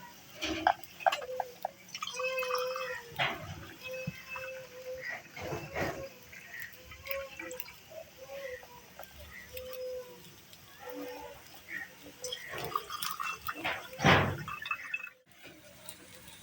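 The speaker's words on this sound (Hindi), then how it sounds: "अब इसे गिलास में शिफ्ट करेंगे।" Jaggery sharbat poured over ice cubes in a glass, with soft liquid trickles, drips and clinks of ice, quiet and close, no talk.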